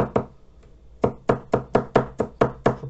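A knife chopping food on a board: one stroke, a pause, then eight quick, evenly spaced chops, close and crisp.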